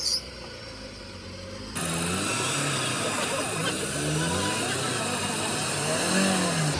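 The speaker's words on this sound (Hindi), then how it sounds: "अमन भैया दोबारा डिग हो रही है, रेस कम दो थोड़ी।" A Toyota Fortuner engine revs hard on a slushy off-road mud trail with its tyres digging in. The steady, loud, rising roar runs continuously, with faint voices underneath.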